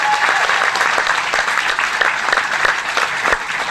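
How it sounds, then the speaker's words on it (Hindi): Loud, sustained applause from an audience at a motivational success seminar, a thick, continuous burst of clapping that holds steady from start to finish without speech over it. "एक जोरदार तालियां बनती है मैडम जी"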